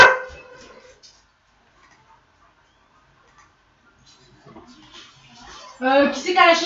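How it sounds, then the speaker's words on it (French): A dog named Hera barks indoors at home, with a sharp burst at the start and more yelps near the end while people talk nearby. "Qui c'est qui a lâché le chien?"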